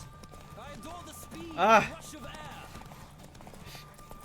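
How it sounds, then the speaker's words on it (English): A horse's hooves clip-clop as it rides at pace in The Witcher 3 video game. The steady, moderately loud hoofbeats run under a man who groans briefly once. "I'm not the best at riding the horses."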